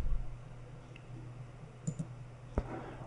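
A handful of soft, sharp computer mouse clicks on a software Add button, spaced apart over a faint steady hum, close and quiet with no talking.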